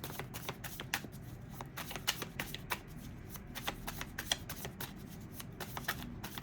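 Tarot cards are shuffled steadily, a quiet, rapid run of crisp riffling and flicking clicks that continues evenly from start to finish with no talk.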